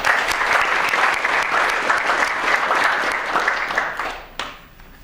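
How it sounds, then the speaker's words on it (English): A room full of people claps for two honorees at an awards gathering, loud and dense at first, then thinning and fading out near the end. "a round of applause for both of them"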